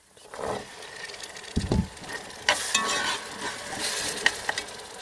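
A spoon stirs tomato with chickpeas in a cooking pot, giving soft scraping and occasional clinks against the metal sides, faint and close, with a light sizzle underneath.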